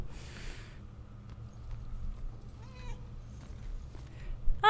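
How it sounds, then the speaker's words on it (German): In the video game Murdered: Soul Suspect, a cat gives a faint meow partway through, then a sharper, louder meow at the very end over quiet ambient room tone. "da ist die kleine Katze"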